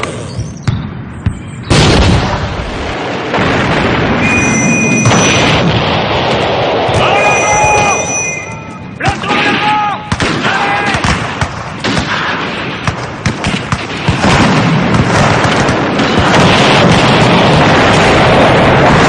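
Artillery bombardment rumbles in a World War I drama as a loud, continuous roar with heavy thuds and booms, and voices speak over the din.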